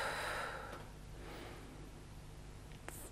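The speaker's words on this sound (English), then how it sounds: "this abdominal breathing" Slow, deep abdominal breaths come through as a soft, close, breathy rush of air, with the strongest inhale at the start and a quieter one after it, and no talking.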